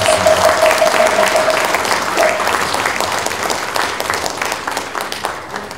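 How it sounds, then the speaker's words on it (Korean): A large Buddhist ceremony crowd, gathered for a newspaper's 40th anniversary and a supreme patriarch's inauguration, breaks into a big round of applause: dense, loud, continuous clapping that tapers slightly toward the end. "큰 박수를 한번 보내주시면 고맙겠습니다."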